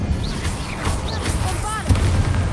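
Confringo and Incendio fire spells cast in Hogwarts Legacy, a run of whooshing magical bursts and crackling impacts over a steady game backdrop, with a voice calling out the spell names.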